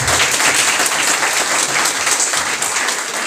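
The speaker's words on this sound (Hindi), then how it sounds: "तो एक बार उसके लिए तालियां।" A burst of loud, dense applause from a crowd, steady clapping throughout the few seconds with no talking.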